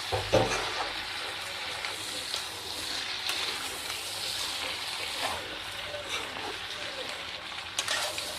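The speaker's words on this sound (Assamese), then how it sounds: "এতিয়া মই এনেকৈ মাংসটো অকণমান লৰাই থাকিম।" Duck meat stirred and fried in a pan, a steady soft sizzle with faint scraping from the stirring, quiet and continuous throughout.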